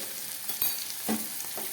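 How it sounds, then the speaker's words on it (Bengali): Potato and tomato sizzling in a pan with green chillies and turmeric, a steady close frying hiss with a couple of light stirring scrapes. "আলু আর টমেটোটাকে খুব ভালোভাবে ভেজে নিলাম।"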